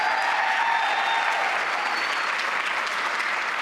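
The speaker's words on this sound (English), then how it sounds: "a round of applause for her" A dense, steady wash of audience applause fills a hall at a women's sport awards broadcast, even and sustained throughout, with no talk over it.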